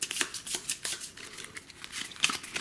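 Culture cards from the Navajo Wars board game are shuffled by hand, a close series of quick papery riffles and snaps in irregular bursts, with no talk over them.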